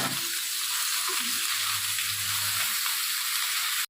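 A thin, watery paste of ground cumin, ginger and chili fries in a pan with a dense, even sizzle that holds steady, close up, then cuts off abruptly.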